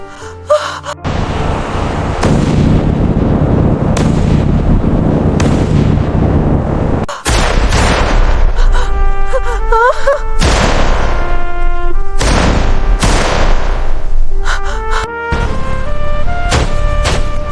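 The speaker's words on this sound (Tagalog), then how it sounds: "They are firing missiles again, Maria!" Heavy booming missile explosions and sharp cracks of gunfire rumble continuously, with loud impacts and sirens or whistling tones rising over a dense, chaotic din.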